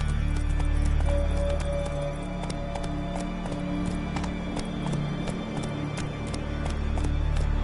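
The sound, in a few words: horse galloping in video game The Witcher 3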